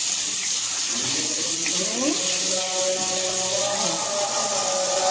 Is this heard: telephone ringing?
no